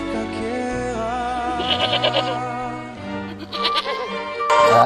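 A sheep bleats loudly and close by, a long wavering cry with several quavering pulses, followed by another bleat near the end.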